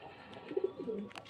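A male Kagzi racing pigeon gives a brief soft coo of a few throaty pulses, faint and close, in an otherwise quiet setting.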